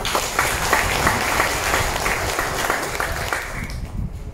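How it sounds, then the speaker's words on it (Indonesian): An audience at a halal bihalal gathering breaks into a burst of applause, a dense patter of many hands clapping that fades toward the end. "Kita berikan aplaus kembali"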